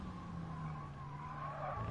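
Renault Sport car in the GT Sport racing game braking into a curve, a steady tire squeal and skidding hiss over a low engine drone, continuous and fairly quiet, with no voices.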